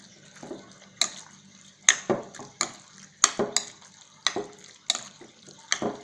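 Kebab meat being stirred into an olive-oil marinade at home, with a series of sharp wet clinks and scrapes in an uneven rhythm, close and fairly quiet, with no talking.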